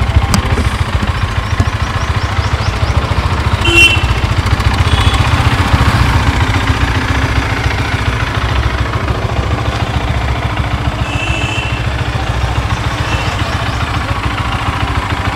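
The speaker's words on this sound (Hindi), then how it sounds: "बाइक स्टार्ट हो गई" Bajaj Dominar motorcycle engine idling steadily after starting, a continuous low rumble throughout with a few faint higher-pitched sounds in the background.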